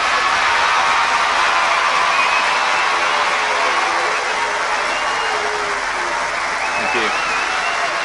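Loud, sustained applause and crowd noise during a Palworld game stream, continuous clapping that fills the whole stretch, with a voice talking over it.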